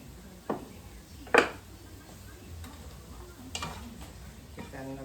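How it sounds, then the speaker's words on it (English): Pasta sauce is stirred in a pan with a few distinct utensil knocks and scrapes against the metal over a soft, low bubbling sizzle. The sound is close but fairly quiet. "Give that another stir"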